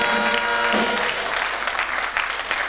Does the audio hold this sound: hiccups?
no